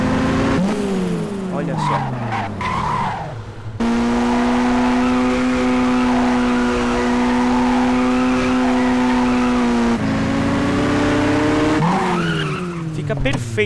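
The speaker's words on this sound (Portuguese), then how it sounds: "Você acelera e solta o acelerador." A sports car from the GTA San Andreas Insanity sound pack revving hard, with tire squeals and gear downshifts around a long sustained high engine tone, loud and close, with someone speaking briefly over it.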